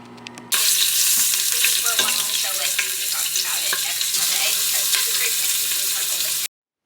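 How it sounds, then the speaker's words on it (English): Meat sears in hot oil in an Instant Pot on the saute setting, a loud steady hiss and crackle that starts abruptly and holds constant, with occasional stirring clatter, before cutting off sharply. "that is what I'll use to sear the meat"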